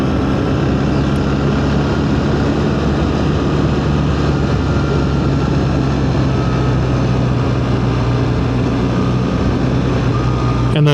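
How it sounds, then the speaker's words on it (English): A 2025 BMW R 1300 GS Adventure motorcycle engine brakes in third gear down a steep curving hill, a loud, steady low drone with rushing wind noise that holds unbroken from start to finish. "I'm on a steep hill down with curve, and she's slowing down with the engine braking. I'm in 3rd gear."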